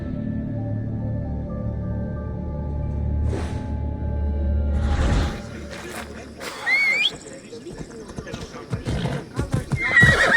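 A horse whinnies loudly and hooves clip-clop in the Assassin's Creed Odyssey video game, set in ancient Greece, with someone talking over the riding sounds and background game ambience.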